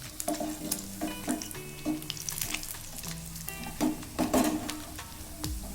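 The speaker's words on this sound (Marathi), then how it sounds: "आपले इथे पनीर तळलेले गेले काढून घेऊया प्लेटमध्ये" Paneer cubes frying in hot oil for chilli paneer, a close, busy sizzle with crackling bursts and clinks of a utensil against the pan, no voices.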